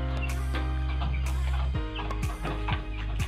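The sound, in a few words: two-month-old chickens clucking in a tiered coop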